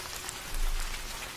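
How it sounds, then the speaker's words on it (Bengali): Rain falls in a cartoon scene as a soft, even hiss of drops, fairly quiet and steady with no voices. "আজ অসময়ে বৃষ্টি নামলো।"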